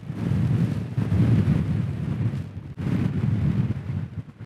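Strong, gusting wind buffets the microphone on an outdoor walk beside a reservoir, a loud low roar that surges and dips with a brief lull in the middle.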